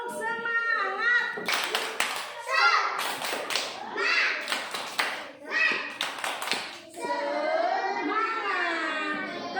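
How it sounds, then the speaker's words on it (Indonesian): A classroom of children claps out a quick rhythmic pattern while chanting together in loud unison, with bursts of hand claps between the shouted phrases. "Tepuk semangat."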